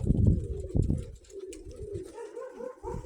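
Pigeons near overhead, with a few soft coos and low fluttering wingbeats in short bursts, nearby and fairly clear, with no voices.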